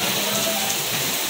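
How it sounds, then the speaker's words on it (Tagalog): Rain pours steadily outside a KTV bar entrance, a dense continuous wash of falling water heard close and fairly loud, with no one speaking. "Nag-aantay ng pawala ang ulan."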